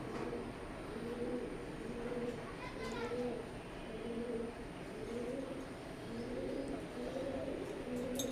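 A pair of imported Teddy pigeons coo in soft, repeated rolling phrases at a steady rhythm, close but fairly quiet under a constant background hiss.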